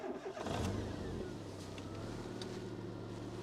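Ford Sierra Sapphire GLS engine, a low-mileage car, cranking and catching, then settling into a steady low idle with a faint hum, quiet and close.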